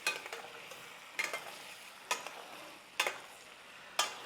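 Raw banana chops sizzle in a pan while a spoon stirs them in sharp scraping strokes about once a second, close and clear over a soft, constant frying hiss.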